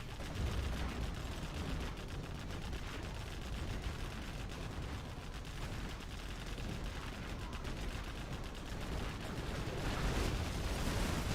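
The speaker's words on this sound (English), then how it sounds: "Lots of scud launchers are popped and launched." Scud launchers firing during a Command & Conquer Generals Zero Hour match, a dense, continuous roar of rocket launches and explosions rumbling without pause, loud and steady with no clear gaps.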